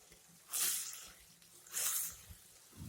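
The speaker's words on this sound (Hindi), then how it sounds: "देखिए थोड़ी थोड़ी देर में इसी तरीके से हम चम्मच चलाते रहेंगे" A spoon stirs keema mince frying in a karahi, with two separate sizzling, scraping bursts about a second apart over quiet background frying.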